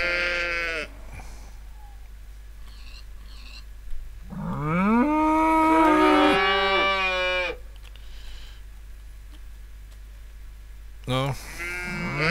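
A few drawn-out sheep bleats in a farming video game, one long wavering call in the middle, with brief human voice sounds at the start and end.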